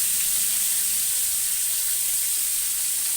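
Diced potatoes and chili paste hitting a hot pan of tempering spices, a steady loud sizzle and hiss of frying oil that stays constant throughout with no speech.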